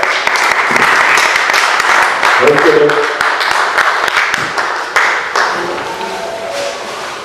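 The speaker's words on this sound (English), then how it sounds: "give her a clap" An audience at a parents' and support workers' gathering claps for a woman who has just spoken, a lively burst of hands that stays strong and then tapers off, while a person talks over it midway.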